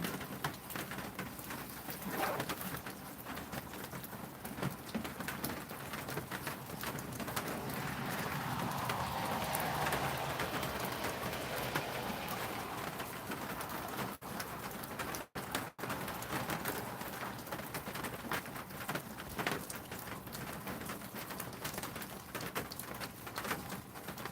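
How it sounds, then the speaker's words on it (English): Steady, dense rain falls outdoors in the American South, a continuous hiss lasting the whole stretch, with pigeons or doves cooing faintly in the background. "Yes, we have tons of rain right now."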